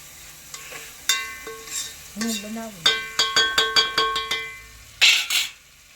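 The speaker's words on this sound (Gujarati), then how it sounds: "જો હવે આપણે ટમેટા નાખી દીધા છે।" Tomatoes sizzle and fry in a pan for a Kathiyawadi garlic olo, with a spoon repeatedly scraping and clanking against the metal in a steady run of close, sharp strokes over the hiss.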